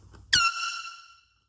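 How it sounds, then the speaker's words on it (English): A small dollar-store air horn lets out one sharp, loud blast lasting about a second, close by and heard on its own with nothing else around it. "Having a whistle or an air horn is great."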